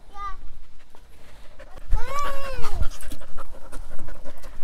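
Dog panting close by in a cold-climate sweet potato garden, quick rhythmic breaths with a few whiny, squeaky vocal bursts in between.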